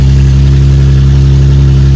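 A car engine with an upgraded exhaust runs steadily, a loud, close, even low drone with no change in pitch.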